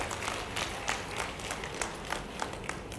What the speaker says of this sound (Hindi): जोरदार ताली बजा करके मेरी बात का समर्थन व्यक्त करें।